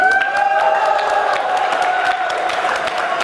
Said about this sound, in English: Can I hear a loud cheer for all the hard work that you put in?